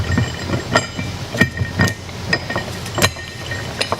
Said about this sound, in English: I'll put my gasket in my cover, and I'll place that on top